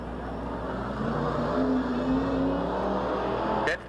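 Stock cars race on an oval track at a 1992 event, a steady loud roar of engines bunched up through turn four, with a rising drone as the pack passes.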